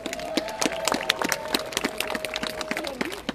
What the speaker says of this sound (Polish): Zróbcie jeszcze raz wielkie brawa dla nich